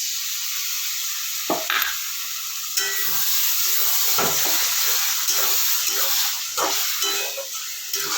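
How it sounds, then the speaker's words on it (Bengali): Chopped tomato goes into hot oil in a pan for a fish roe curry, setting off a loud, hissing sizzle with repeated knocks and scrapes as it is stirred close by. "তেল ছেড়ে দিয়েছে এবার আমি দিচ্ছি টমেটো কাটাটা"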